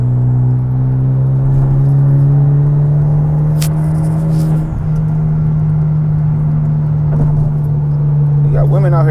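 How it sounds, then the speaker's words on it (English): A car engine idles loud and close, a steady deep hum with a smooth even drone held throughout. "I swear this car sound good, yo."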